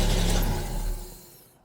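A Jaguar XJS V12 cranks over as it tries to start, a close, loud, rumbling churn that holds for about a second and then fades away without catching.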